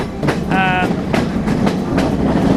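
A moving train in Sri Lanka rumbling with rhythmic clacks over rail joints, steady and close, with a brief high tonal squeal partway through.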